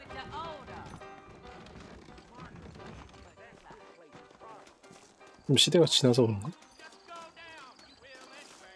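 Saddled horses' hooves clip-clopping in the Red Dead Redemption video game, a loud burst of rapid hoofbeats lasting about a second, set among in-game dialogue and someone speaking Korean.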